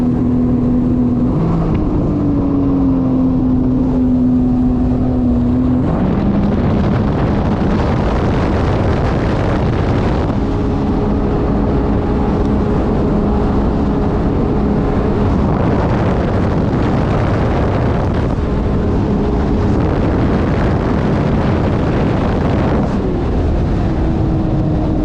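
Sea-Doo RXP-X 325 personal watercraft, speed limiter removed, running flat out at top speed, its engine roaring loud and steady with a pitch that climbs and shifts as it accelerates across the water.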